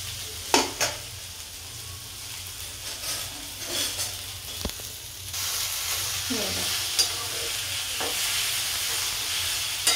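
Okra sabzi being stirred and frying in a pan, a steady close sizzle with scraping spoon strokes against the pan throughout, no talking.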